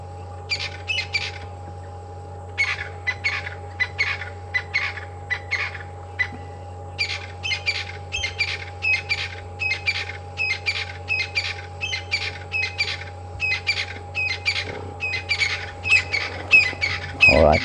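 Oxpeckers perched all over zebras give repeated harsh rasping calls in rapid bursts, fairly near and loud above a constant low hum of wind or engine on a sunset safari drive.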